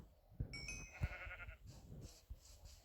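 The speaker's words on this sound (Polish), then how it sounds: "owca. Owieczka, chodź do mnie do mojego mieczyka." Blocky Minecraft sheep bleat in the game, a couple of short wavering cries heard up close over faint game ambience, with no talk.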